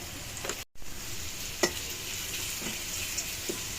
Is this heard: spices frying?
yes